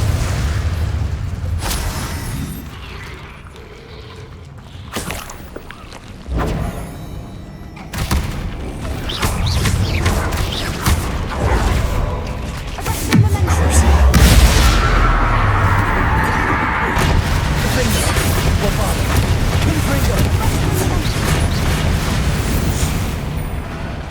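Confringo and Incendio spell blasts in Hogwarts Legacy on PS5, a busy run of booming impacts, fiery whooshes and thuds over a steady roar of combat noise.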